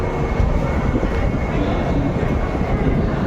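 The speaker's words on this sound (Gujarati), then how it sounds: "આપણી ટ્રેન આવી ગઈ છે." Train arriving at Indore railway station, a continuous broadband rumble of wheels and engine that stays loud and steady, heard close on the platform.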